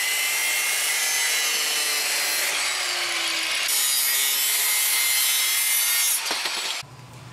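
A metal piece being cut off during a job welding two vehicles together, a loud, close, continuous grinding-saw rasp with shifting pitch that abruptly stops near the end.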